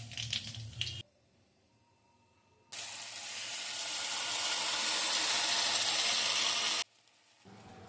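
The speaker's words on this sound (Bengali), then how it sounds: "কালো জিরে আর একটা শুকনো লঙ্কায় ফোড়ন দিয়েছি" Nigella seeds and a dried red chili crackle in hot oil in a pan. There is a short sizzle, then a pause, then a long, louder hiss lasting several seconds before it cuts off.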